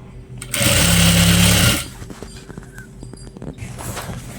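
A sewing machine runs a single line of stitching on a uniform shirt in a short, loud, fast whirring burst of just over a second. Quieter handling noises follow.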